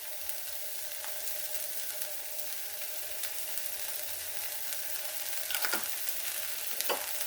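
Garlic and onion frying in a pan, stirred with steady sizzling hiss and a few louder scraping strokes near the end, moderately close with no talking.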